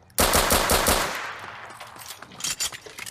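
Automatic gunfire in a survival raiding game bursts in loudly as a rapid rattling volley of close shots, then thins into scattered quieter pops and thuds.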